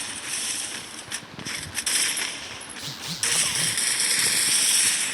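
Gunfire in a shooter video game during a close firefight, sharp cracking shots and bursts with clicking mechanical sounds, dense and loud throughout, with no talk.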